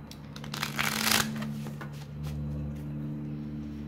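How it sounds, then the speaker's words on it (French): Tarot cards shuffled by hand in a room with windows open, a quick rustling riffle peaking early and then fading into soft faint handling over a low steady hum. "Je vais mélanger devant vous"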